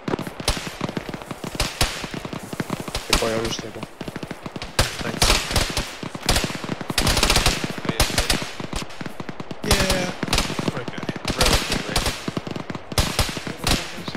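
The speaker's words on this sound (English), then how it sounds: "Poyo, start shooting." Gunfire in the Arma 3 video game: loud, sharp shots in rapid bursts and bunched volleys, with brief pauses between strings of automatic fire.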